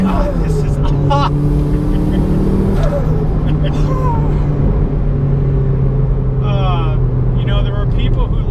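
A turbocharged Toyota MR2 with an upgraded billet wheel and a boost controller, running 16 pounds of boost, revving hard and loud up close, the engine note climbing and falling through several pulls while people talk over it.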